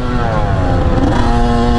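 A Kawasaki KX100 dirt bike engine screams at full throttle, a loud, steady high-pitched rev held close throughout on sand dunes and trails.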